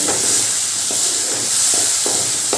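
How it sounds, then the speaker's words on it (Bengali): Ground spice paste with Kashmiri chilli powder sizzles and hisses steadily in a pan as it is stirred and sautéed, with soft periodic scraping strokes under the continuous frying noise. "যে গুঁড়ো মশলার পেস্টটা বানিয়ে রেখেছিলাম সেটা দিয়ে দিলাম আবার ভালো করে এটা কষে নেব"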